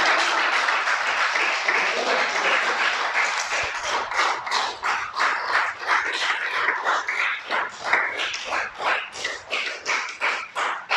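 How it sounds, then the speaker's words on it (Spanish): Standing church congregation applauding during a worship service, dense clapping at first that thins into loose, rhythmic individual claps, moderately near and sustained over ten seconds. "Ponte de pie, pero dale un aplauso al que venció a la muerte en la cruz."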